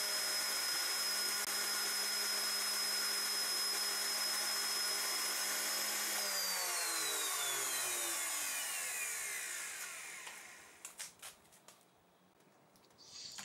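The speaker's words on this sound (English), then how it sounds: "cut a groove or dado down the length of the piece of timber" A router cutter cutting timber against a fence gives a loud, steady, high-pitched motor whine that winds down with falling pitch partway through, followed by a few quiet knocks and clatters.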